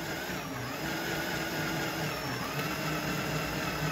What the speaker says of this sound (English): Nice and slow, sharp drill bit.